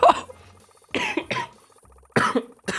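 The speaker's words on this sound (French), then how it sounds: "je fais que tousser" A few harsh coughs in short bursts, close and loud, separated by brief pauses.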